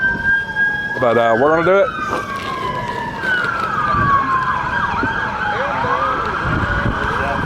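An emergency vehicle siren wails and sweeps through rising and falling tones at an outdoor ham radio flea market, moderately loud and passing by while someone talks over it.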